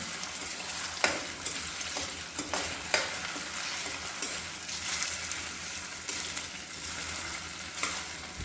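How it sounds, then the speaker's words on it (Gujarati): Chopped potatoes sautéing in a pan for Gujarati seven-grain khichdo, a steady sizzle broken by intermittent scraping stirs and utensil knocks, close and moderately loud with no talk. "તેને 5 થી 7 મિનિટ માટે સાંતળીશું।"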